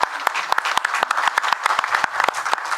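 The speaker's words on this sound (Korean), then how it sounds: "예, 박수 부탁드리겠습니다." Audience applause at an international temple-food symposium, a dense burst of many hands clapping with sharp individual claps standing out, loud and close, with no talk over it.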